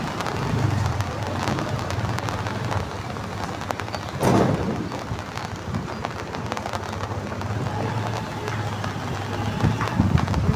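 Rain falling on an outdoor municipal plaza: a continuous wash of patter and hiss, with a louder gust-like surge near the middle and faint background activity throughout.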